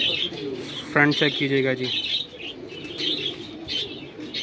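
A female Amritsari pigeon coos in short low throaty bursts near the recorder, with chirps and wing noise around, under someone talking.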